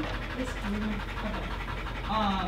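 A reactive dog pants softly nearby in rapid, rhythmic breaths, while faint voices are heard in the background.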